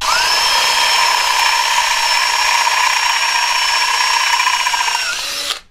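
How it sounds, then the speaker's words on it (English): A power drill whines loudly at a steady high pitch for about five seconds, close up, drilling a hole in a 125cc motorbike handlebar, then cuts off abruptly at the end. "gonna drill a hole in our bar"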